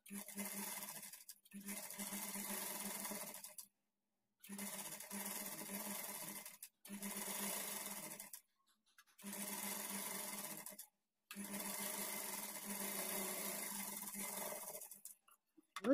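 A sewing machine stitches a blouse in several steady whirring bursts of a few seconds each, separated by short silent pauses.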